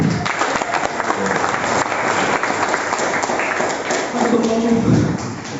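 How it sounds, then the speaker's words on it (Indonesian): An audience at a teacher leadership presentation breaks into dense, sustained applause that fills the room. Thumps mix with the clapping, and a voice talks briefly over it near the end. "Tepuk tangan dulu."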